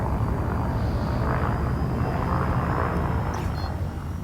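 A spaceship's engines run at full power in Elite Dangerous, a steady loud roaring rumble with a thin high whine that holds without a break.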